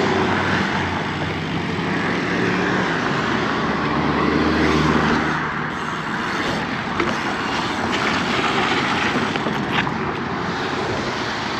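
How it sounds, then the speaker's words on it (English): Traffic rushes by on a Fort Worth, Texas street, cars passing fast and close in a loud, continuous roar with swelling whooshes and no voices. "Cars fly fast right here."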